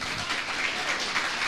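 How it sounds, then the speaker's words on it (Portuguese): A church congregation bursts into applause, a dense, steady wash of clapping from many hands that fills the short moment without any break. "aplauda o Senhor Jesus"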